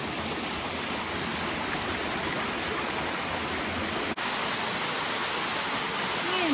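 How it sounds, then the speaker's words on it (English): Cottonwood Falls at Worlds End State Park, a forest waterfall pouring in a steady, dense, close roar of rushing water that holds unbroken throughout. "I am guessing that this is a Cottonwood Falls."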